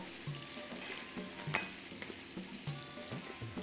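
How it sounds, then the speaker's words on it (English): Chicken liver for pâté sizzling in a hot pan while a utensil stirs it in quick, repeated scrapes and clacks, fairly quiet and close, with no one talking. "Quickly stir it around"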